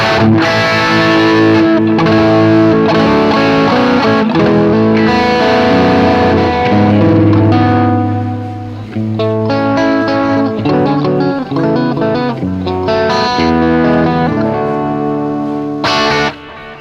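An electric guitar plays loud, driven chords and riffs through a crunchy, distorted amp modelled on an Axe-FX III Turbo, without boost or overdrive pedals, with short pauses and ringing sustain.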